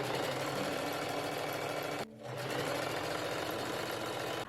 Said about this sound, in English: On the inside of these pieces, I'm just going to zigzag stitch.